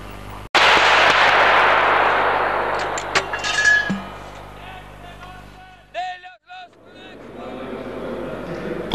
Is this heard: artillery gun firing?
yes